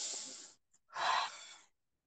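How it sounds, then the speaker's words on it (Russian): A deep inhalation taken as part of a breathing exercise: two close, breathy intakes of air, the second longer and fuller, with no talk. "Вдох."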